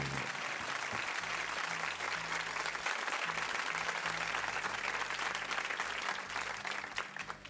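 Studio audience applause on a Brazilian radio show, sustained clapping from a group that runs loud and continuous across the whole stretch before easing slightly at the end.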